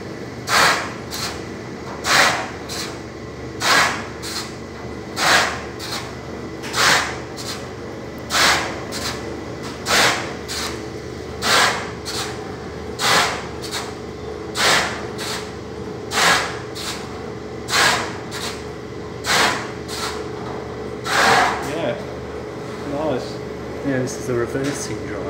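A Dexter Thoroughbred 400 reversing tumble dryer runs in a laundrette, with a steady drum hum and regular sharp clunks roughly every one and a half seconds as the load tumbles, while people talk nearby.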